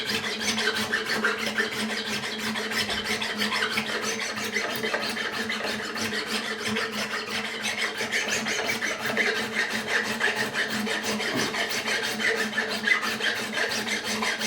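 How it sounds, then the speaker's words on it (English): Steady, continuous abrasive rubbing as the frets on a left-handed Tanglewood TRSF-CE acoustic guitar are polished, several frets at once, a dense scratchy scrubbing that runs unbroken and close throughout. "we're polishing all the frets anyway"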